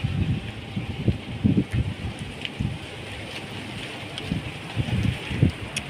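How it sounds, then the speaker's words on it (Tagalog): Outdoor wind gusts buffet the microphone as someone walks along a street, producing irregular low rumbling bursts that rise and fall under a faint steady background hiss. "Mahangin."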